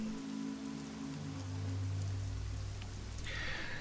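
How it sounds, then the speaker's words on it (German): Steady rain patters on surfaces at night outdoors, a dense, even hiss of drops that continues throughout with a faint low rumble underneath. "Und der Regen prasselt stetig weiter."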